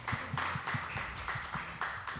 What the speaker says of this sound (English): I would like everyone to give a round of applause for David.